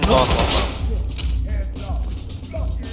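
Rapid gunfire bursts and shots in the tactical shooter Ready Or Not, loud and close at the start, then repeated sharp reports over the rest, with players' voices faintly under the shooting.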